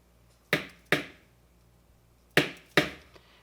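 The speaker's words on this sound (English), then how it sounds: "that smacking sound you hear is me smacking the cotton off" Cotton being smacked off a vape RBA coil deck: four sharp, close slaps in two quick pairs, separated by a short pause.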